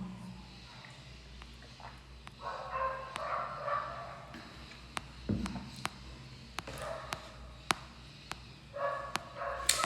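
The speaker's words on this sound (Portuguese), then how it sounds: "que bom que não interfere no áudio os cachorros" Dogs bark now and then in the background of an indoor room, with sharp, fairly faint yips scattered irregularly over a quiet hum, and occasional soft footsteps.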